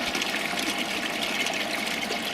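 Water from a koi pond gushes steadily through a pump hose, a dense continuous rushing flow heard close and alone.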